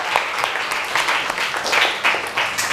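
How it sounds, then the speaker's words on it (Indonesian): A classroom of students clapping together in lively, spirited applause, a dense patter of many hands with rhythmic pulses, moderately near and without voices on top. "Oh iya, tepuk tangan semangat."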